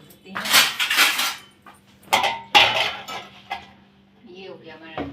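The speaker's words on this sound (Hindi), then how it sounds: "और ये है सब्जी का बर्तन। इसको रखते हैं साइड में।" Metal dishes and cutlery clatter and clank in a home kitchen as utensils and a vegetable pot are set aside, coming in several sharp bursts up close with quieter handling between them.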